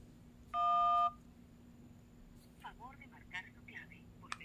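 Touch-tone keypad beeps as a Verizon prepaid phone dials into voicemail: one short, clear tone burst, then a quiet voice speaking briefly afterward.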